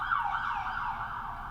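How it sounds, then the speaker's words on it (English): An ambulance siren passes near a hospital, a clear, fairly close wailing tone that sweeps up and down with a low traffic hum underneath and no talking. "you're going to hear ambulances in the background"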